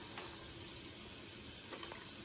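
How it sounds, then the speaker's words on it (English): Pancetta sizzling very softly in a pan, a faint, steady crackling hiss with a couple of brief louder pops near the end. "Pancetta is just very, very, very softly sizzling away right there."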